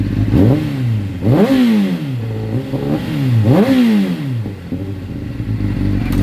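A 2005 Honda CBR 600RR motorcycle engine, not yet warmed up, revs up several times in short bursts, the pitch climbing and falling back to a steady idle between each throttle blip, loud and close.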